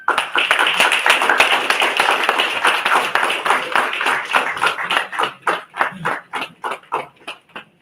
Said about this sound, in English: A round of applause for the winner of the short film category.